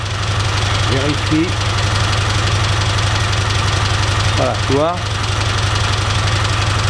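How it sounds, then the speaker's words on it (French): Cold engine idling steadily on a test stand with a dense, even mechanical drone and some knock, continuous and close, while someone speaks French briefly over it. "Le moteur il est froid."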